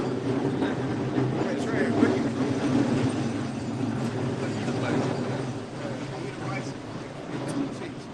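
A train passes nearby outdoors, a steady rumbling roar with faint rhythmic clatter that holds throughout, with people talking over it.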